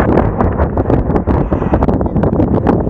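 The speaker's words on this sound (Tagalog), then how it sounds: "Grabe, sobrang lakas pa rin yung hangin talaga dito sa taas na to." Strong wind gusts buffet the microphone at a high mountain viewpoint on a ride between Nueva Vizcaya and Pangasinan, a loud, continuous roaring rush with uneven surges throughout.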